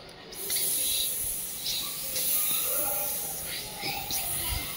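Someone imitates a snake by mouth: a steady, close, breathy hiss sustained for several seconds with slight swells.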